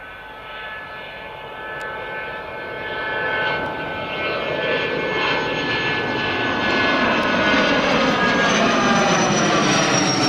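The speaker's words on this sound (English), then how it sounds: "We've got the Italian Learjet 45, which is just departing now. Rolling down the runways." An Italian Learjet 45 rolls down the runway on takeoff, a loud jet roar with a whining tone that builds steadily and grows louder as it accelerates, heard from nearby without talk.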